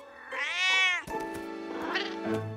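A cartoon cat in Boule et Bill lets out a long, loud, wavering meow that rises and falls, followed by a second, rougher caterwaul amid brief clattering noises.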